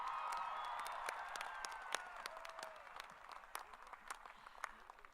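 At a 2019 Humboldt State University College of Professional Studies ceremony, the crowd applauds Samuel Brown with scattered, fading claps and a few cheers, thinning out toward the end as voices murmur underneath.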